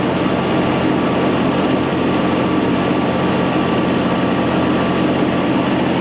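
A Warner & Swasey No. 5 sliding bed turret lathe runs with the turret feeding, giving a steady, dense mechanical drone with a low hum throughout, loud and continuous with no pauses.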